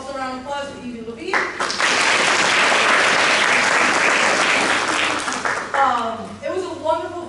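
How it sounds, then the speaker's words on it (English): At a youth soccer awards night, a voice briefly precedes a loud, sustained wave of crowd applause lasting several seconds, which then fades as his talking resumes. "we'll also round of applause for Evie Levine"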